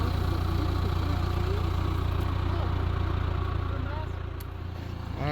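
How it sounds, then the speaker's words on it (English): A tractor engine runs at an outdoor relic dig site by an old colonial house pit, a loud, steady low idle rumble that dips slightly near the end, with faint voices underneath. "We're using our buddy's tractor."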